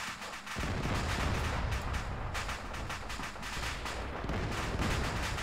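Mortar fire and explosions in the video game Arma 3 rumble on continuously, a dense barrage of deep booms and cracks filling the scene without pause.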